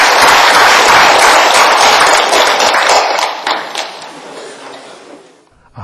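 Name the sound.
audience applause to welcome a speaker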